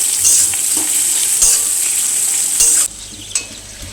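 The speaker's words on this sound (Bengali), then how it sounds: "পেঁয়াজ রসুন চিংড়ি মাছ খুব ভালো করে ভেজে নিয়েছি" Onion, garlic and prawns fry and get stirred in a pan for a Bengali taro-leaf dish, a steady close sizzle with brief louder scraping bursts before the hiss drops quieter near the end.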